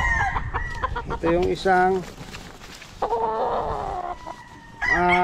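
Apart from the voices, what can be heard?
gamefowl roosters clucking and crowing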